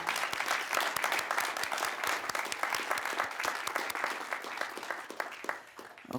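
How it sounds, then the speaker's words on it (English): A candidate forum audience applauds steadily for about six seconds, dense overlapping clapping filling the room with no talk on top. "Let's give these candidates a round of applause."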